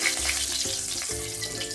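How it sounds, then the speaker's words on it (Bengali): Brief, close crackle and hiss of hot oil as panch phoron spices fry, with a low humming tone running underneath. "এইগুলো ভালোভাবে খুশবু আসা পর্যন্ত ভেজে নিতে হবে"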